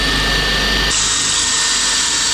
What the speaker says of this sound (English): we're going to pre-drill and then we're going to put the collars in